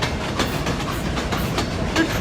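A steam locomotive's rolling carriages clatter along the rails in a steady clickety-clack rhythm, a continuous, fairly loud rumble with faint periodic knocks and a brief high whistle-like tone near the end.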